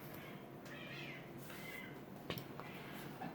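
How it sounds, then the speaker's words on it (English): A cat meowing outdoors, faint and distant, giving a few separate drawn-out cries under quiet background noise. "Crazy how that cat's making noise outside"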